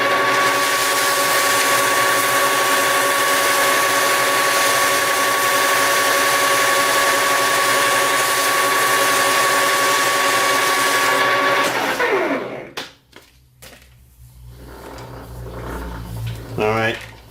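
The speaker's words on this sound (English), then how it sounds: "now we're just gonna polish out our blue spots there from heat straightening" A power polisher buffs heat-straightened metal with bluish heat marks, running as a loud steady whine for about twelve seconds, then winding down and stopping, followed by faint handling noises.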